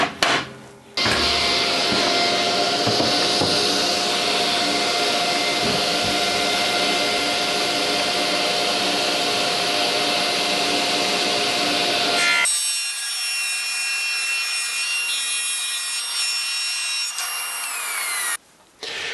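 A table saw with a combination blade rips through plywood in a loud, continuous whining rasp lasting about eleven seconds, then drops to a ringing blade spin-down before the saw goes quiet. No one talks.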